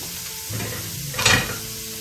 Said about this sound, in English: We're just going to put all of that right into that wonderful butter.